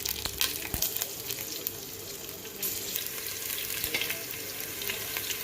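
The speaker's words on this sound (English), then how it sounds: "Cook these chilies for a minute or so" Green chilies fry with cardamom in hot oil that was already used for frying onions, for a mutton biryani. A steady, close sizzle runs throughout, broken by scattered crackles and pops.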